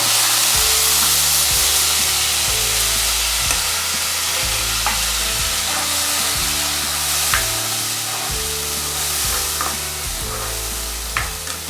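Grated tomato sizzles in a hot pan while a spoon scrapes and stirs it in a regular rhythm, a close, steady frying hiss that runs throughout with no talk.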